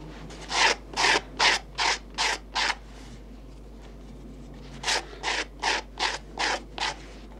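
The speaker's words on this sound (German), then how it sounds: "schabt Esser das Kappenleder auf der Vorder- und Rückseite mit einer Glasscherbe glatt" Shoemaker scraping cap leather smooth with a glass shard, two runs of six rhythmic, close rasping strokes separated by a brief pause, with no talking.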